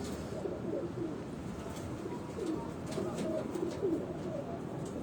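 High-flying pigeons of the Ali Wala breed from Punjab coo in soft, repeated low calls close by. A steady murmur of background noise runs underneath throughout.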